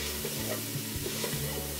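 Grated fennel, celery and chili sweating in a pan for a bouillabaisse base, a soft continuous sizzle with a low stirring rumble, close and brief with no talking.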